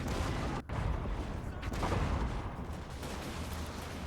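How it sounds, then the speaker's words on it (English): Cannons fire and explode across a battlefield in Total War: Warhammer, a dense, continuous rumble of booms and blasts with one sharp break early on, no distinct speech over it. "Some of the cannons actually in the mid-ground there are exploding."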